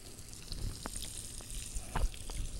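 Food sautéing in a pan with sazón and adobo seasoning, a soft sizzle with scattered crackles and small pops, close and fairly quiet, heard alone.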